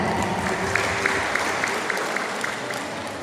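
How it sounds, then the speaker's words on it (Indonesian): Audience clapping for a speaker at a teachers' workshop, a moderate, even patter of many hands with a faint hum underneath, continuing steadily throughout. "tepuk tangan untuk beliau"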